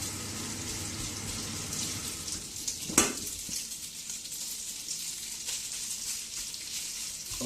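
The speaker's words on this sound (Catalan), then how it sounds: "Els farem fregir." Pasta bows (llacets) sizzle steadily as they fry in oil in a home kitchen pan, a continuous close crackle with a single sharp utensil clink partway through.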